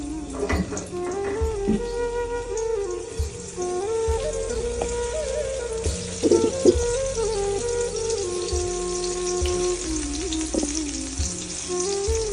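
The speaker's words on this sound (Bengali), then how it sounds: "এই চুলায় আমি বেগুন ভেজে নিব তো বেগুনগুলো হলুদের গুঁড়ো মরিচের গুঁড়ো দিয়ে মেখে নিছি ভালো করে" Eggplant pieces rubbed with turmeric and chili powder fry in hot oil on a stove, a steady crackling sizzle with occasional spatters and a clinking stir, while a humming tone drones underneath.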